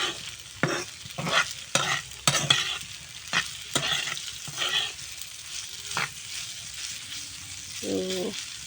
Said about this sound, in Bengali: ওদের জন্য এই যে 2 প্যাকেট নুডলস রান্না করলাম